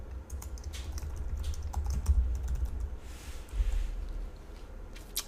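Typing on a computer keyboard while entering code, a steady run of quick, light key clicks with irregular rhythm, close and moderately quiet, with no talking.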